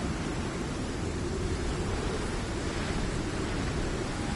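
A loud storm in the survival game Icarus on PS5 gives a constant, even roar of wind and rain that holds without a break.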